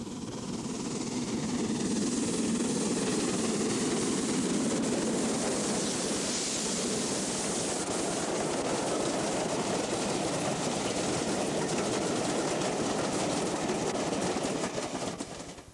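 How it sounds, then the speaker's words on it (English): Lancashire and Yorkshire Railway and Midland Railway steam locomotives double-head a rail tour on the East Coast Main Line, producing a broad, steady roar that rises and holds for many seconds, with no talk. "The South Yorkshireman Rail Tour heads for Darlington with an unusual Lancashire and Yorkshire and Midland"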